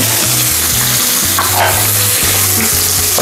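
Tomatoes sautéing in a hot pan for pork kansi, a loud, continuous close sizzle with steady frying crackle throughout, no talk.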